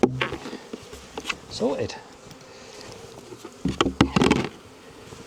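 Honeybees buzz steadily around an open hive during beekeeping work, a close, wavering drone with brief louder swells, while a person talks over it.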